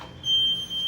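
A security alarm panel sounds a steady high-pitched electronic tone that holds for most of a second, loud and close, with no talk.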